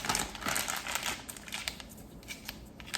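A loaded piping bag of churro dough being squeezed at the sides to push the air out, giving close, steady plastic crinkling and rustling throughout with small crackly bursts, no talking.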